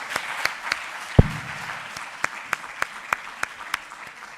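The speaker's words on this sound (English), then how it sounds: "I'd like to invite you for a family picture and a big round of applause." Sparse, steady handclaps from a small audience at a conference panel on sustainable tourism in the Mediterranean, with one heavier thump early on. The claps are fairly faint and evenly spaced, with no voices over them.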